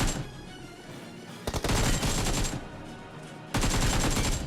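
Bursts of rapid gunfire in BGMI, a battle royale mobile game, as a squad is fought at a school: two dense, loud volleys separated by a quieter stretch of game ambience.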